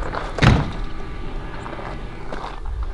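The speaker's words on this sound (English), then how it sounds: "whoever it was slammed the door again" A door slams once, a loud, close thud early on, followed by a quieter room tone with faint rattles and movement.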